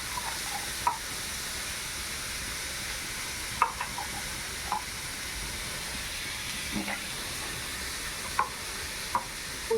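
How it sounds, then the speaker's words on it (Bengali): Potatoes and peas frying in a pan with onion and garlic, salted and spiced with turmeric, give a steady low sizzle throughout, broken by a few soft clicks of stirring against the pan. "এখন একটু ভাজা ভাজা করবো"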